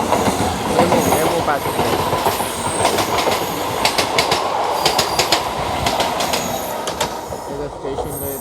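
A passenger train runs past on the outer line near Vijayawada, a steady close rumble with clickety-clack of wheels and brief squeals throughout, someone speaking briefly over it.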